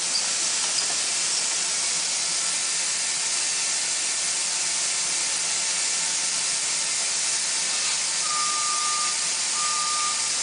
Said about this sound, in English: you can allow this to stop steaming off and then continue to build up your thickness